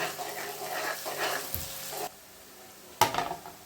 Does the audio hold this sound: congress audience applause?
no